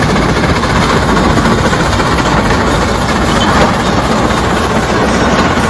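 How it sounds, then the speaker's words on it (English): A 1904 Best 110-horsepower two-cylinder steam traction engine, two stories tall and over 18 tons, runs close and loud with a steady, heavy low rumble and no voices. "The 110 horsepower Best steam engine."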